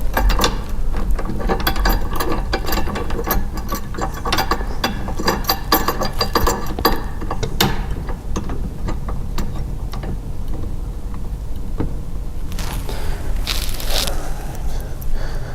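A 1/2 inch bolt with lock washer is threaded down through a Husqvarna mower striping-kit bracket into a channel nut, giving rapid close metallic clicking and ratcheting that runs steadily, then thins out before a brief burst of scraping near the end.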